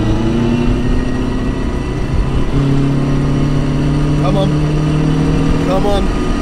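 Three all-wheel-drive race cars, a 705 hp Subaru Impreza, a 620 hp Honda Integra and a 650 hp Mitsubishi Evo 8, drone steadily in a rolling start around 40 mph and then pull harder from the line. Loud, sustained engine tones rise and shift.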